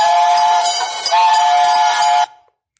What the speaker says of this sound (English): Wow, the train is coming